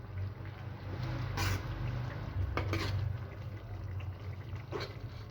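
A spoon stirs white bean curry (safed lobiya) in a cooking pot, producing a few faint scattered metallic scrapes and clinks over a low steady background hum.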